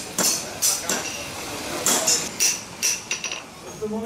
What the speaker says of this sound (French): en quelques coups de masse, on vous fait une lame de couteau